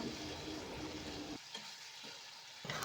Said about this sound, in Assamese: এতিয়া এইখিনি আকৌ কিছু সময়ৰ কাৰণে ভাজি ল'ম।